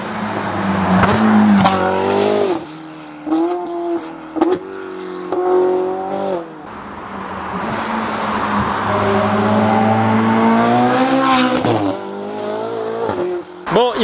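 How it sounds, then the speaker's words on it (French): Tuned 800 hp Ferrari 488 GTB with turbos, its engine roaring loud and close through repeated rising revs and gear changes, with brief dips between pulls. "on a même plus l'impression qu'il y a des turbos dans la caisse tellement ça fait de bruit"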